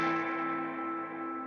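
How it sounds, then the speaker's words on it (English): An electric guitar rings through an amp with its reverb turned all the way up for surf music in a living room, a sustained chord washing into a long, dense reverberant tail that slowly fades, heard alone. "Here it is, reverb on 10."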